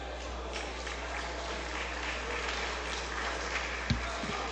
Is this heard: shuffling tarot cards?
no